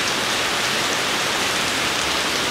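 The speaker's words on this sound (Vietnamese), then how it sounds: "có một vài giọt mưa đã làm cho chúng ta cũng ngạt đến." Light rain falls steadily over an outdoor cemetery mass in Kẻ Sặt parish, an even, close hiss of drops with no voices, constant throughout.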